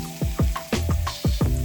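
Shrimp hit a hot pan already cooking ginger and garlic, setting off loud, close sizzling and frying with a few sharp scraping stirs in quick succession.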